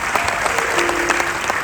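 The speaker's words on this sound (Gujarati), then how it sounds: "એમને એક વખત જોરદાર તાળીઓથી વધાવો" A crowd at a Lok Dayro folk music evening for Jalaram Jayanti in New Delhi claps loudly and continuously, a brief burst of dense applause with some crowd noise mixed in.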